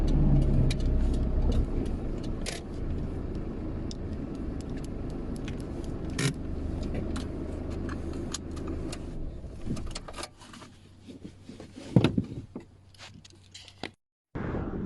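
A car parks outside a countryside cafe, its engine idling low and steady before switching off. Scrapes, rustles and a door clunk follow, with the engine hum stopping near the end.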